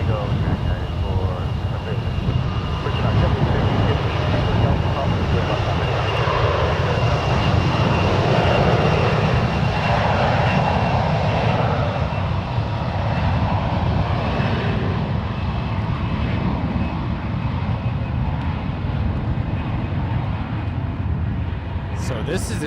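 Airliner jet engines roar close and loud at San Francisco International Airport, a broad sustained rumble that swells and slowly fades, with radio talk faintly underneath.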